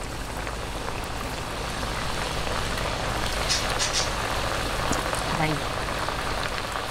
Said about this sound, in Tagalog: ngayon po mainit na ang ating oil. Ilagay na po natin ang ating kamote.